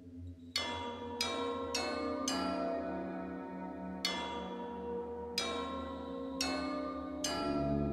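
Bells toll in the puzzle game Submachine Legacy, a series of clear metallic strikes with long ringing decays in an uneven rhythm over a low steady drone.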